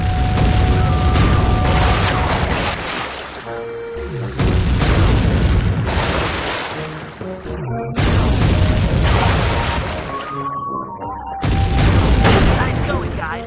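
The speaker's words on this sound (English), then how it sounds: "Murray rows and Sly mans the cannon. Hold down the R1 button to charge the shot and shoot farther." Cannon shots fired from a rowed boat in the Sly 3: Honor Among Thieves video game, heavy booming blasts recurring roughly every few seconds amid loud game action and music, with voices talking throughout.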